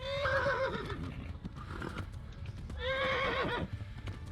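A horse neighs twice in the medieval video game Kingdom Come: Deliverance, two loud wavering whinnies separated by a pause, with hoof clip-clops and low rumble underneath.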